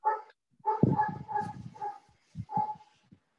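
A dog barks in a few short, moderately close bursts with brief gaps between them, heard in the background of an online meeting with no speech over it.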